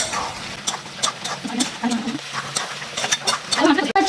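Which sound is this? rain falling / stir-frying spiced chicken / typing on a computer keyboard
stir-frying spiced chicken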